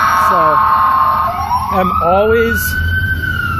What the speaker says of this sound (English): Yeah, that was actually a police car.